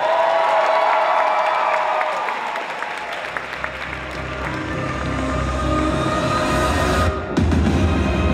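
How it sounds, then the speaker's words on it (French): An audience applauds a cosplayer representing France at the Polymanga Global Easter Cosplay 2018 contest. The clapping is loud, steady and sustained, with some cheering mixed in, and it cuts off briefly near the end. "On l'applaudit bien fort"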